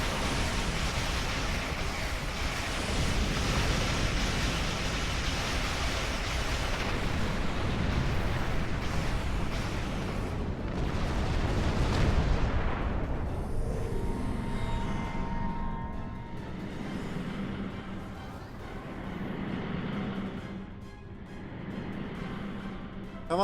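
Heavy artillery fire in the space game Star Trek Online, a dense roaring barrage of rumbling blasts that stays loud and continuous before thinning into scattered, lighter impacts.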